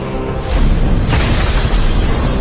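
A loud, deep explosive boom bursts out as a portal gate opens in an animated series, followed by a sustained roaring rumble that stays strong to the end.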